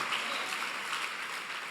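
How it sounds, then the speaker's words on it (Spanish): Church congregation applauding together, a steady broadband clatter of many hands that holds evenly for a couple of seconds at moderate distance, with no voices over it. "Dale un aplauso a Él."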